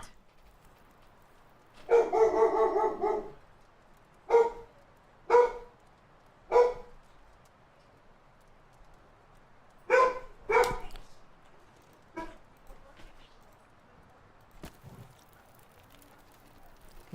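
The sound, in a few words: dog barking in The Long Dark video game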